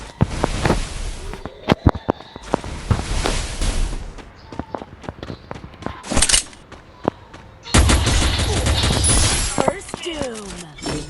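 In a custom match of the Free Fire video game, sharp gunshots ring out singly and in rapid bursts with pauses between them, alongside footsteps and voices talking.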